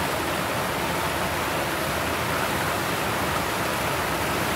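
A river flows steadily at a glamping site in Mindo, Ecuador, a dense, constant rushing wash of water, close and loud with no other sounds.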